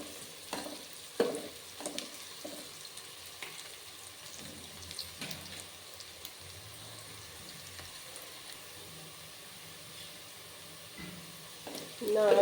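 Vegetables for pulao fry in a pan with a faint, steady low sizzle, broken by occasional soft clanks and scrapes of stirring, and a louder clatter near the end.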